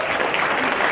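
An audience claps throughout a motivational seminar in a brief, dense burst of steady applause that fills the whole moment.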